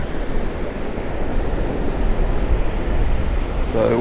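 On a fishing outing early in the morning, rough ocean surf rumbles with steady, loud gusting wind and a low, continuous roar close by, with no talking.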